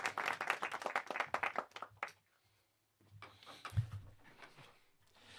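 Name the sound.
hand clap sound effect played from an iPad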